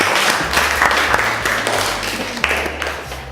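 An audience applauds performers in a continuous burst of clapping, fairly close and even, filling the short moment without any talking.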